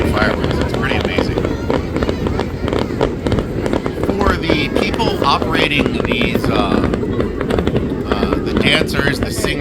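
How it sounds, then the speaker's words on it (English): Fireworks at the Nebuta festival in Aomori, Japan, a dense continuous crackle and booming of many bursts at once, loud and unbroken throughout, while someone talks over them. "By the end, the entire city is pretty much engulfed in fireworks."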